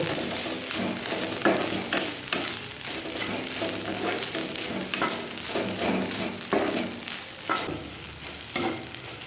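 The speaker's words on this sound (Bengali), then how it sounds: "এই যে এতটা নারকেল আমি দিয়ে দিলাম, এবার একটু নাড়িয়ে নেব" Grated coconut being stirred in a hot pan, with a soft continuous sizzle broken by repeated scraping strokes of a spatula against the pan, close and steady, with no talking.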